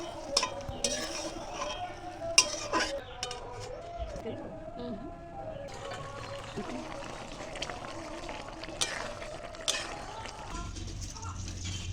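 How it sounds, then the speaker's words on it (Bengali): A spoon stirs spiced okra in a pan, with soft scraping strokes and light metallic clinks over a gentle sizzle, and a voice talks at times. "এখন মাখানো ভেন্ডি দিই ভালো করে নাড়িয়ে চাড়িয়ে"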